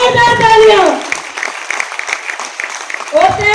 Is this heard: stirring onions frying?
no